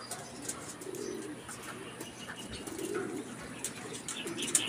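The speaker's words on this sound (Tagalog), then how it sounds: "Ayun, mga ibon natin mga kalapatids." Racing pigeons coo softly in a loft, low throaty murmurs repeating over a quiet background with occasional faint chirps and light rustles.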